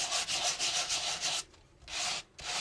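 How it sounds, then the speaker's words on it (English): A small sanding block scrubs over embossed two-tone white-core cardstock in steady back-and-forth strokes, close and dry, with short pauses between passes. "And I've got a little old sanding block."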